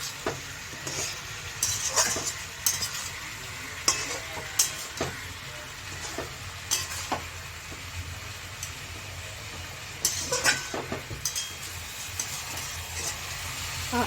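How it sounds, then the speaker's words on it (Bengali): Chicken masala for a Pahadi chicken dish sizzles steadily in oil in a kadai while a spoon stirs and scrapes the pan in irregular clacks, close and continuous with no talk. "এবার নেড়ে নিচ্ছি, দেখুন তেল ছেড়ে দিয়েছে আর খুব সুন্দর কষা হয়ে গেছে"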